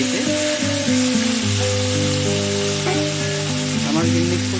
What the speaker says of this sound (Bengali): এখানে নিয়ে এলো মাখা মাংসটা, সমস্ত কিছু দিয়ে দিল কড়াইতে